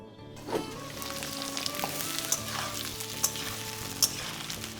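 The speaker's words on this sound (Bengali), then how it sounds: "ঢাকা দিয়ে মাঝারি আঁচে তিন মিনিট ভাজবে" Pumpkin, stalks and jackfruit seeds fry in a covered pan over medium heat, giving a steady close sizzle with a few louder crackles and pops.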